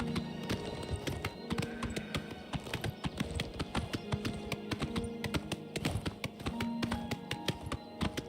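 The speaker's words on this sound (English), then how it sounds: "look how slow this horse is. It's dashing right now." Horse hooves galloping in the video game Oblivion Remastered: a quick, steady clip-clop of hoofbeats, close and fairly quiet, with faint game ambience underneath and no talking.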